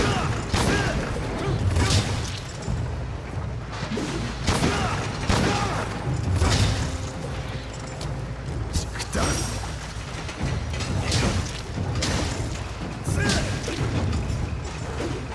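Gunlance shelling explosions and weapon pokes in Monster Hunter Rise, a busy run of repeated booming blasts, thuds and mechanical clanks over continuous battle noise.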